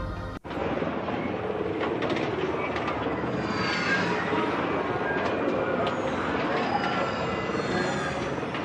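Train ride in the sci-fi action game The Ascent: a brief sharp cut, then a dense continuous rumbling roar with metallic squeals and rattles, under talk.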